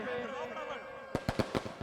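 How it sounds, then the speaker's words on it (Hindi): Firecrackers and fireworks burst at an outdoor Ravan Dahan effigy-burning celebration during a staged Ram–Ravan battle, a quick series of five or six sharp cracks following a stretch of blaring music and crowd noise. "इस आतिशबाजी के बीच में"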